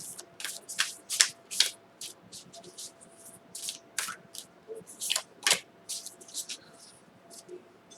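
Oracle cards shuffled by hand for an Aries advice reading, a steady run of soft, crisp riffling flutters and slaps close up, with faint background hum and no talk.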